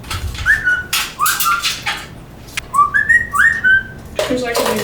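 A pet bird whistles near a home PC-building session, giving a series of short rising whistles and chirps in bursts, with clattering handling noises between.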